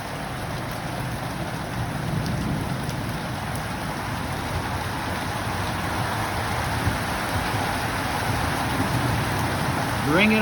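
Steady rain from a brief thunderstorm in Lower New England, Australia, patters and hisses evenly on nearby surfaces, a dense and constant wash of drops close by.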